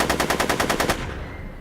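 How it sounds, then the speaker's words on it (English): Rapid burst of automatic gunfire in Back to the Future: The Game, about nine evenly spaced loud shots in under a second, then a short fading echo, with no voices. "Are you shooting at me?"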